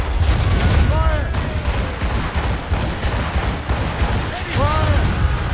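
Ship cannons fire in the naval video game Assassin's Creed Rogue, a steady barrage of heavy booms layered under shouted commands and battle noise throughout.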